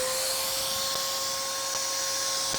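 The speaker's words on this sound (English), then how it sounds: "So now I will turn on the vacuum." A vacuum pump for a fiber laser's vacuum plate runs steadily, a continuous loud whirring hiss with a faint high whine and occasional soft clicks, with no speech.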